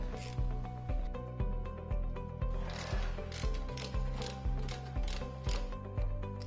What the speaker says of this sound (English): Grab your medium-sized ratchet and put a size 45 Torx bit onto it.